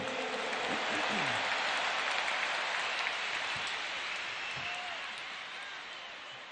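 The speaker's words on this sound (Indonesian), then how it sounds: "Tepuk tangan dulu yang meriah untuk Gus Muhaimin" A campaign rally crowd applauds for Gus Muhaimin in a loud, dense, sustained wash of clapping and cheering that fades slightly toward the end, with some voices mixed in.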